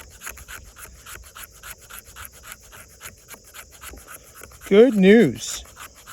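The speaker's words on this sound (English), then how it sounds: "So this is fat wood that I'm scraping." The spine of a D2 steel knife scrapes fatwood in quick, rhythmic rasping strokes, close and steady, with someone briefly speaking near the end.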